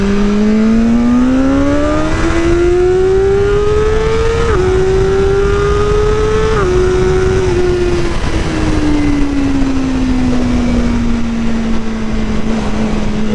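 A BMW M motorcycle engine accelerates hard, its loud whine climbing through several quick gear changes before settling into a steady, slowly falling tone.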